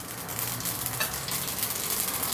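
Mustard seeds and fenugreek sizzling in a small amount of hot oil as a tempering for a Gujarati chilli-mango relish: a steady, close hiss with crackle that runs throughout and is heard alone.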